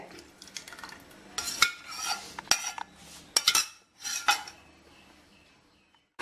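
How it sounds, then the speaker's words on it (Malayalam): A cup of homemade curd is poured from a vessel into a mixer jar for sambharam, with a run of close clinks and scraping knocks against the jar, then quiet. "നമ്മൾ മിക്സിയിലേക്ക് ഒഴിക്കുക തൈര്"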